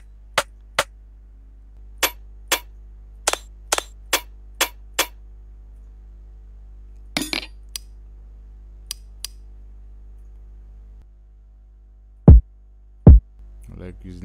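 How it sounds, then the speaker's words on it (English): Sharp Afrobeat rim shot drum samples played in FL Studio, a series of crisp clicks in an uneven rhythm, alone and fairly loud with gaps of silence, followed by a couple of deeper hits near the end. "You just have to use rim shots."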